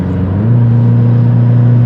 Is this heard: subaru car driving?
yes